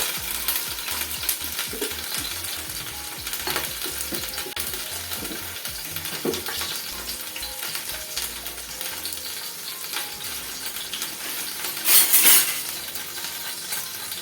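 A gravy of ground onion, coriander and cumin with ginger and turmeric fries in a pan, giving a steady close sizzle broken by occasional scraping stirs and metallic clinks, with no voices.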